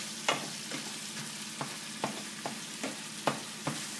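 Ground beef cooking in a pan for nachos, a soft low sizzle broken by regular spatula taps and scrapes about every half second, close but quiet, no voices.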